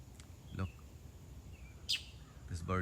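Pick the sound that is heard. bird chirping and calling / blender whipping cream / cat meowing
bird chirping and calling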